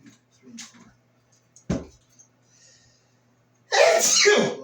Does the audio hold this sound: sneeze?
yes